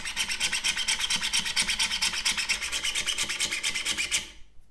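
A 3D printed mini drill rolled under a fingertip bores into a board, giving a steady, rapid rasping scrape that pulses rhythmically for about four seconds before stopping abruptly.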